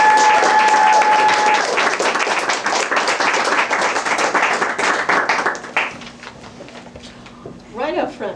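Enthusiastic audience applause greets author Jill Orr at a Sisters in Crime event, a dense burst of clapping for about six seconds that fades out, followed by quieter room sounds and a brief voice.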